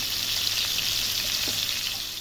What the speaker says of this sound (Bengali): আগে আমি তেলের ভেতরে ভেজে নেব আলুগুলো।